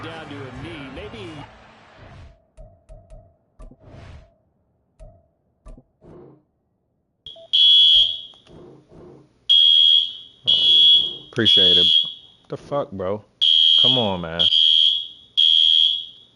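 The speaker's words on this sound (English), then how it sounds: "My fucking fire alarm in my building is going off, bro." A building fire alarm going off in repeated loud, shrill electronic bursts, each lasting about a second with short gaps between them, close by while someone talks and swears over it.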